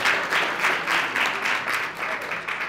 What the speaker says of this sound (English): let us give Mayor Victoria Oga a welcoming round of applause